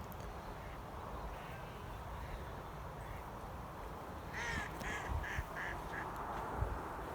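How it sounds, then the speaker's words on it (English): Faint duck quacking calls sound from a distance over steady outdoor background noise at a nature reserve, arriving as a short series of repeated honks toward the end. "the ducks sound happy"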